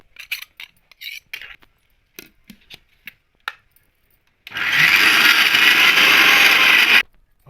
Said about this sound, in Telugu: మిక్సీ చేసుకుంటానా